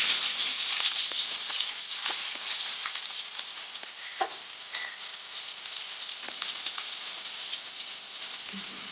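Onions frying in a pan for chicken curry give a steady, close sizzle with faint crackles and occasional soft stirring scrapes, with no one talking.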